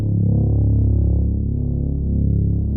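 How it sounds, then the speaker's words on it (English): A simple FL Studio bass-line one-shot with slides gives a deep, smooth, sustained low tone that glides gently between pitches, loud and alone for under three seconds. "it's basically a really simple bass line with some"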